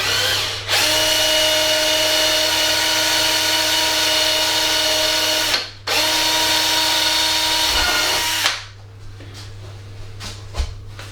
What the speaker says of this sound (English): I need to drill one hole for the lights as well.